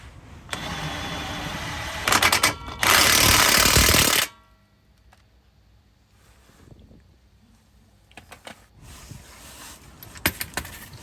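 An impact gun tightens a ball joint nut on a 2012 Vauxhall Astra rear suspension: two loud, harsh rattling bursts close by, then quieter clinks and tool handling.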